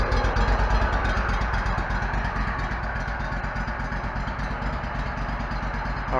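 An old Bobcat 61-inch zero-turn mower engine runs steadily at idle while warming up, a close, even, rattly drone with a fast pulsing beat and no voices.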